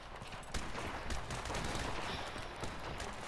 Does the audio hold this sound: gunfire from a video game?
yes